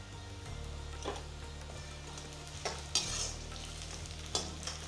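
Curry leaves and tomato sautéing in a pan for a Chettinad fenugreek curry, a soft continuous sizzle with intermittent stirring knocks and scrapes, close by and without speech.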